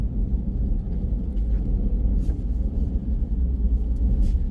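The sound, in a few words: Ford F150 pickup truck driving on snow, slush and ice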